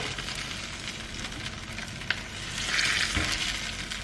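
Cheese croquettes frying in a very hot pan give a steady, close sizzle with a brief crackle near the middle, swelling louder in the last second.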